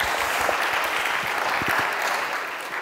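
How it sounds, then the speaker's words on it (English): Sustained audience applause fills a panel discussion on dance music and brands, steady dense clapping from a seated crowd, loud and continuous throughout. "Yes, you may applaud for that."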